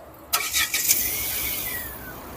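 A car engine cranks and catches after its four newly gapped spark plugs are fitted, a few loud starter bursts settling into a steady, close idle with no talk.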